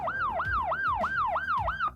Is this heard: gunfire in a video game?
no